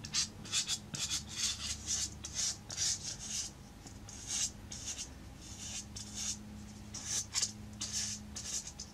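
A brush lays a thick coat of Mod Podge onto a styrofoam shape. The result is a quiet, rhythmic scratchy rubbing of repeated strokes that continues steadily, with no one speaking.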